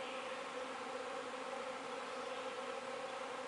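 A feral honeybee swarm clustered outdoors gives a faint, continuous buzzing drone, steady and distant, with no voices.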